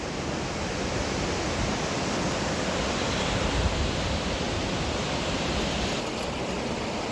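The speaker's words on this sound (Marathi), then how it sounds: "आवाज येत असेल तिचा, खडखड पाण्याचा आवाज, असा खळखळ खळखळ एकदम" The Beas river rushes and gurgles in a steady, dense wash of water noise that stays even and close throughout, with no voices over it, in a snowy mountain setting.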